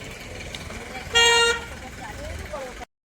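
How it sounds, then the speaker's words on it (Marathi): A bus from Mumbai arrives at a village market and gives one loud, short honk of about a third of a second over steady outdoor traffic and ambient murmur. "मुंबईची गाडी आले."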